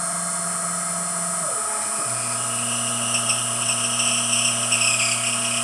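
An Emco F1 CNC milling machine cuts a resin model of a Kity woodworking machine bed guide block, a steady high whine with the motor pitch shifting partway through, close and continuous.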